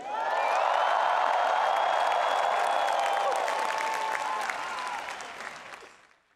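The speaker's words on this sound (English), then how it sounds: "one more time, let's cheer and wave." Graduates at an MIT commencement on Killian Court cheer and applaud, a loud, broad roar of clapping with shrill whoops and whistles rising above it, swelling and then fading away over several seconds.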